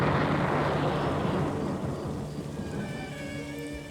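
Heavy, pouring rain falls as a dense, steady hiss, loud at the start and easing slightly toward the end, with no voices over it.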